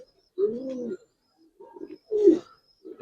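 Colouring Giribaz Hurricane pigeons coo close by in short, separate bursts with quiet gaps between them, and no one speaks.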